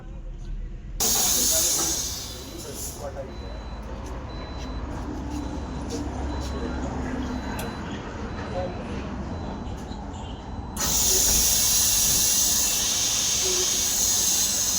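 Compressed natural gas hisses loudly into a car's tank at a CNG fuel station, a harsh burst at the start and a sustained loud rush near the end, with a steadier quieter flow between.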